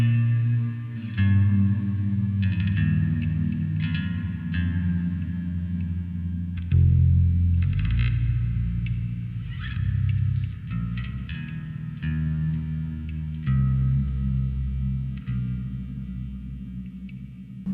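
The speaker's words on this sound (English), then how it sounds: "I've got a little reverb guy that I figured I could probably do some fun stuff" An electric guitar played through a small reverb effects pedal, sustained chords and notes ringing with washy echo and chorus-like shimmer, changing every couple of seconds over a full, steady tone.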